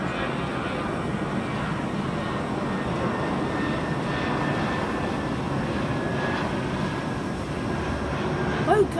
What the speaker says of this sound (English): It's British Airways flight BA566 to Milan.